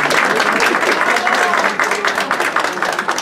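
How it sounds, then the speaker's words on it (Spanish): An audience applauds at an award ceremony honoring merit, with dense clapping that thins into more distinct claps near the end, a voice speaking faintly underneath. "Un aplauso, venga."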